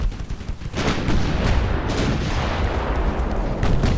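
Naval guns roar in rapid succession with shells striking around pre-dreadnought warships, British against German, in Ultimate Admiral: Dreadnoughts; a dense, loud, continuous barrage of booms and impacts with no talking.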